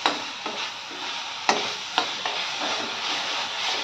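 Small fish curry fries in a pan with a loud, steady hissing sizzle, broken by a few sharp spatula knocks and scrapes as the mixture is stirred, with no voices.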